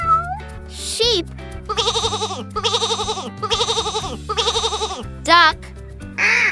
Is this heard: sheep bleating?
yes